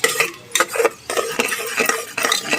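Masala frying for khichdi in a pan, stirred with a metal spoon: repeated scraping strokes and clinks against the pan over a steady sizzle, close and fairly loud, no voices.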